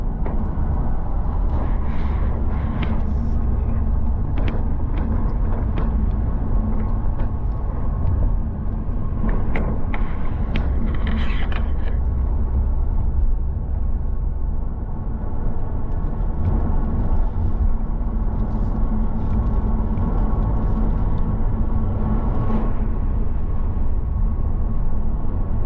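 A car on the road to Yosemite National Park gives a steady, loud engine and road rumble throughout, with passing whooshes and light rattles and no talking.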